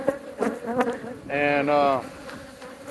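Bees buzz in close, droning bursts around an exposed hive being taken apart, the whine swelling loudest in the middle; a voice speaks briefly.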